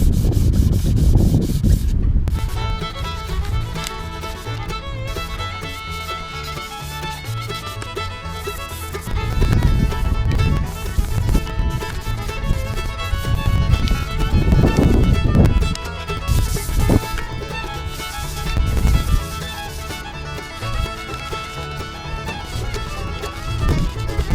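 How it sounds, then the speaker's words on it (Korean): Sandpaper rubs back and forth across a wooden wrist rest in repeated light strokes, close and fairly loud, with brief pauses between bursts. "이렇게 표면을 다듬는 샌딩을 할 때에는 그렇게 힘을 많이 들이지 않으셔도 돼요."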